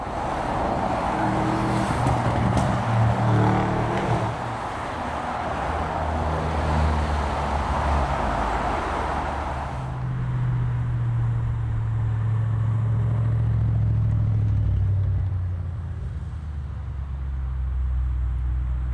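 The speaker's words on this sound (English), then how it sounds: "we're in the Bentley, currently ahead of the convoy" A Bentley car drives steadily along a motorway, with a constant engine drone and road roar that shifts in tone partway through.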